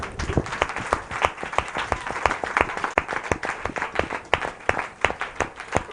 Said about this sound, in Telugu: అయినా పర్వాలేదు అన్న వాళ్ళు మాత్రమే చప్పట్లు కొడదాం